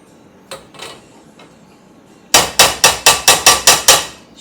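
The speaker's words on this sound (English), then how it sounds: "Now we're going to put our beans in." Dry pinto beans poured into a pan in a home kitchen for wet burritos, a rapid run of about eight sharp, loud rattling clatters following a couple of fainter knocks.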